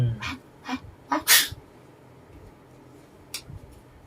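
A man sneezes once, loud and close, with a sharp burst of noise. Several softer breathy bursts come before it and one brief sound follows later, over a quiet room background.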